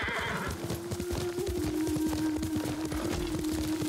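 A horse whinnies at length over a steady, rapid clatter of hooves, loud and close throughout, in the video game Ghost of Tsushima.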